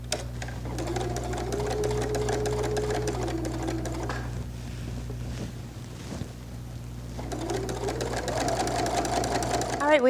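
Sewing machine stitching quilted holiday placemats: a steady, loud mechanical whir runs for about four seconds, pauses briefly, then resumes near the end, with a constant motor hum beneath.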